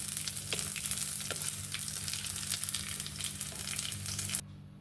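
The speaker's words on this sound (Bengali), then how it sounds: "চালগুলো ভাজা হয়ে গেছে লালচে করে নিই হালকা একটু ভেজে নিয়েছি" Rice grains fry in a pan with a bright, continuous crackling sizzle and scattered stirring scrapes, close and steady, cutting off abruptly near the end; no voices.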